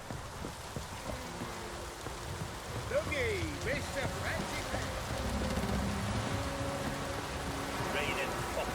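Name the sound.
heavy rain in a video game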